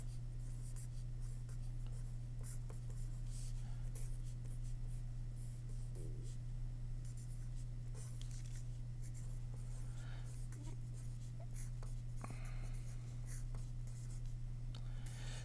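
Handwritten AP Chemistry thermochemistry notes are taken with scratchy pen strokes in irregular bursts, close by, over a constant low electrical hum.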